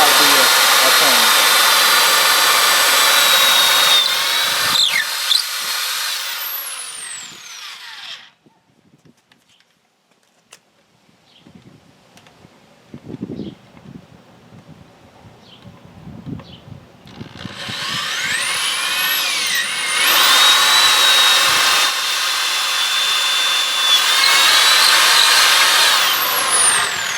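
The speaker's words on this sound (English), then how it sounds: "so now I've got both of my holes drilled" A power drill bores holes through 2x4 wood, one hole near a knot, for a homemade steel target stand: a loud, steady whine runs for several seconds, stops through a quiet stretch of faint handling noise, then starts again for a second long burst.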